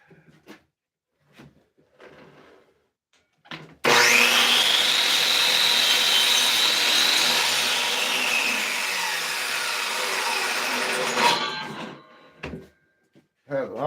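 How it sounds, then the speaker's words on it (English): A miter saw spins up with a sudden loud whine and cuts through wood, the blade screaming steadily for several seconds before winding down, framed by quiet rustling and brief talk before and after. "I have the hardest time waiting for my blade to stop when I'm using the miter saw."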